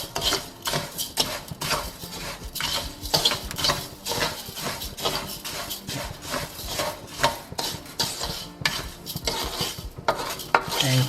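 Rice grains stirred in oil in a pan for mushroom saffron risotto, a steady busy scraping and rubbing of spoon against the pan with light sizzle, continuous and close for the whole stretch.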